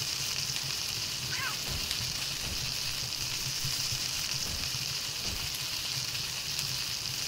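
Steady, continuous sizzle of food frying on a cooking station in the video game Palworld, a dense hiss with faint background tones and no talk.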